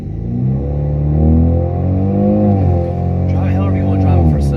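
A turbocharged four-cylinder Camaro running E85 at about 26.5 psi of boost drones steadily and loudly from its engine, pitch rising and falling as it is driven, with a voice talking over the rumble throughout.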